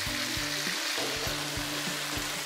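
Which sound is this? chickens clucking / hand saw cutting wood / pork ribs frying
pork ribs frying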